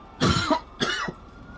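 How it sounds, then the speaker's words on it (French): Two separate harsh coughs ring out close by, each short and forceful, from a person in a GTA roleplay hostage scene, with quiet after them. "non, arrêtez de tousser, vous me dégoûtez."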